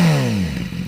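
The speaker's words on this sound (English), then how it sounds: "How's this sound? TaylorMade exhaust." BMW S1000RR sport bike with a TaylorMade aftermarket exhaust, a brief loud rev that falls away quickly into idle, close by.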